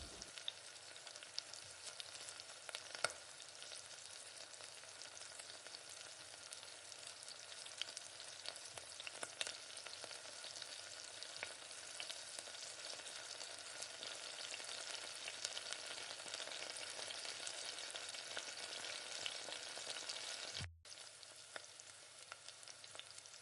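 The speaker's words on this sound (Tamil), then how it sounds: "இஞ்சி பூண்டு தட்டி வச்சுருக்க இஞ்சி பூண்டை சேர்த்து பாத்திரத்தில் ஒட்டாத அளவுக்கு நல்லா வதக்கி விடுங்க." Crushed ginger and garlic sauté in a pan for chicken curry, giving a soft, continuous sizzle with occasional stirring clicks and a brief dropout near the end.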